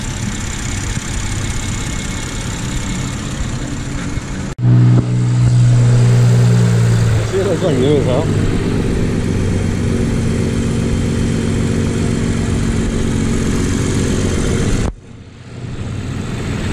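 BMW F30 340i engine running after a hybrid turbo install, a steady close idle hum with a brief rev in the middle before it settles and drops off, while someone speaks briefly over it.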